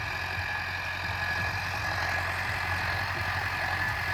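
A tractor engine pulling a super seeder for wheat sowing runs steadily nearby, a low, continuous rumble with a constant mechanical hum and no pauses.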